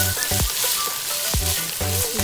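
Shiitake mushrooms sizzling in a pan with ground beef, a steady frying hiss with a few short clacks of a utensil against the pan.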